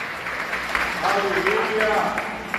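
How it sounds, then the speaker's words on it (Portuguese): A church congregation applauds during a worship service, a steady wash of clapping from a crowd with a voice calling out over it. "Dá uma salva de palmas bem forte para Jesus."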